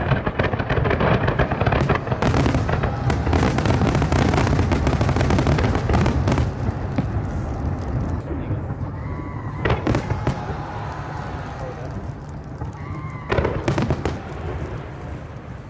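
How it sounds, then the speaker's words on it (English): A rapid barrage of fireworks in North Korea, dense booms and crackles overlapping continuously, with occasional whistling rockets and louder bursts near the end. "we were treated to the biggest fireworks display we had ever seen"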